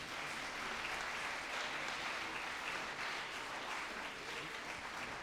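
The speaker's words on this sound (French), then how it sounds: "je crois qu'on peut encore les applaudir et vous applaudir" Steady, dense applause from the audience at a travel sketchbook awards ceremony fills the room evenly, holding at a moderate distance without a break or a clear voice.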